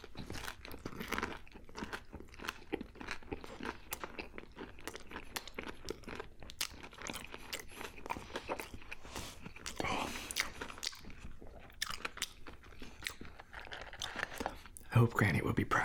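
Close-up crunching and chewing of garlic-powder-dusted bagel bites, with dense crisp bites and wet mastication running steadily throughout, a sharp loud crunch near the end, and a voice speaking briefly now and then.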